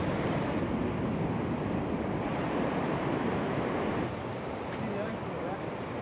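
Waves and wind at Ruby Beach make a steady, loud, broad roar of surf with gusty wind buffeting the microphone throughout, easing slightly near the end.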